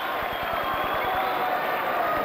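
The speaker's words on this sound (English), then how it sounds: "Stoll checks out, gets a big ovation from the DeSmet fans." DeSmet fans roar in a sustained ovation at a 1986 State B basketball game against Parker, a dense, steady crowd wash over rhythmic low thumps on the gym floor.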